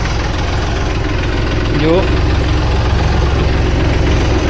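A tractor engine idles with a steady low, even rumble that runs through the whole stretch, while a person talks over it nearby.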